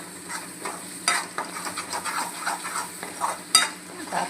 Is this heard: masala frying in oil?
yes